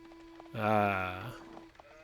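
Sheep bleat in a medieval strategy game, a single drawn-out, wavering call of about a second rising over a quiet game soundscape, close and fairly loud, with faint clicks around it.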